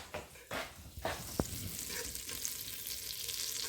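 Butter mixed with lemon, garlic and parsley heats in a pan, ready for sausages, with a steady soft sizzle and a few clinks and knocks early on.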